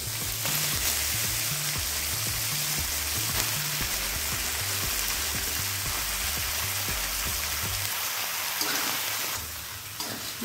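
Cut water lily stems fry with shrimp in a pan, giving a steady, close sizzle and crackle over a low rhythmic rumble that softens slightly near the end.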